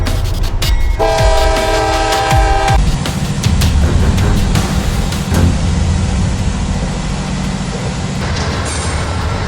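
A three-car Trinity Railway Express commuter train rumbles past close by, with a loud horn blast sounding early on over the steady roar of rolling wheels.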